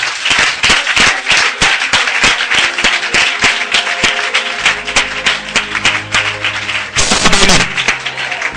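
Church congregation applauding at a worship service, steady loud crowd clapping throughout with rhythmic individual claps and brief murmurs, swelling near the end.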